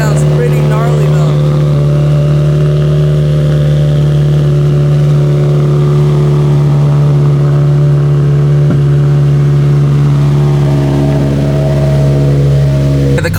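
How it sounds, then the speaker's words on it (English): A warmed-up Mitsubishi Evo engine running without misfires, loud and close at a steady pitch, a strong constant drone with a brief dip near the middle, consistent with idle being brought up toward revs. "Let's give it a few revs to see if that changes."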